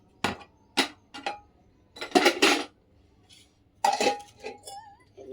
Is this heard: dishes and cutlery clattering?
yes